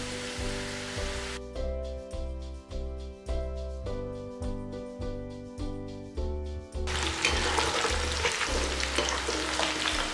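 Rice-flour-coated masala peanuts are slipped into hot oil and fry with a broad, hissing sizzle, briefly at the start and then loudly over the last few seconds, while music plays over most of the stretch.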